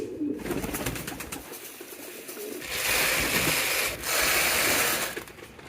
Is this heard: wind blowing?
no